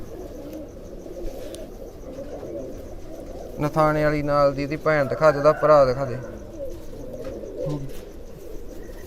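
Racing pigeons coo in low, rolling calls around a Punjabi loft, steady in the background while someone talks loudly over them partway through.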